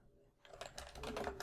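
Fast typing on a computer keyboard, a quiet, steady patter of key clicks that starts after a brief silence and continues to the end.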